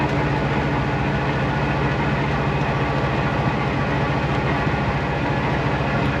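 A 1956 Willys Jeep soft top cruising in third gear at about 30 mph, a loud, steady low engine drone with constant road and wind rumble and no pauses.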